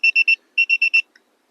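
A valve-cap tire pressure sensor signals low pressure with two quick groups of electronic beeps, three then four, high-pitched and clean, with a short pause between groups.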